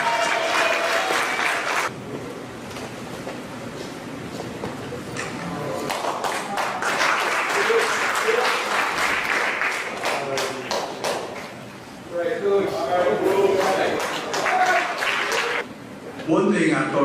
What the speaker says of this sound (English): give my friend, Coach Milton Watson, a round of applause for a job well done